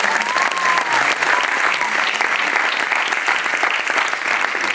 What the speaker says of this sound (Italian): Un applauso per questo